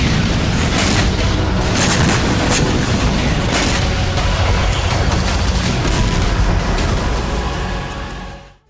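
Russian artillery fire strikes a Ukrainian howitzer in battlefield news footage, a dense, loud, continuous roar of blasts and booms that runs for several seconds before cutting off abruptly.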